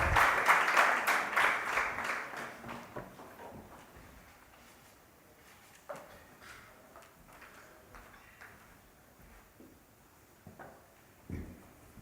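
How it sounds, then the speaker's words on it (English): An audience applauds as a chairperson of the Live, Love, Laugh Foundation is welcomed on stage; a burst of clapping at the start quickly fades to a few scattered claps and quiet room noise. "Round of applause"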